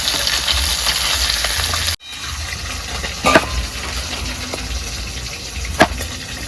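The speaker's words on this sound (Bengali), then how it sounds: "হালকা হালকা করে ভেজে নিচ্ছি" Potato, eggplant and radish frying lightly in a pan for a small bata fish jhal, a steady sizzle that cuts off abruptly, then quieter frying with occasional stirring clatters.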